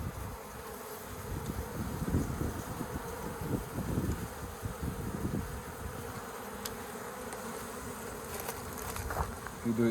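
Swarm of bees buzzing continuously and faintly while a colony nested in a bird house is being removed, a dense irregular hum with no talking.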